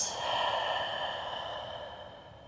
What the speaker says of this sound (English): And then just open your mouth and exhale, let it all the way out.